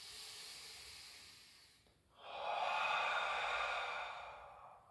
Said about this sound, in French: Et j'expire.